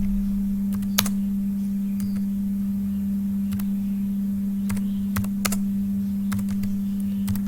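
Urdu text being typed on a computer keyboard, heard as scattered close key clicks in short bursts and single taps over a steady low electrical hum, with no talking.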